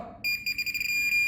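A Minelab Pro Find 40 pinpointer over a non-ferrous metal target gives a steady high-pitched electronic tone that starts abruptly after a brief moment of quiet and holds continuously, close and fairly loud.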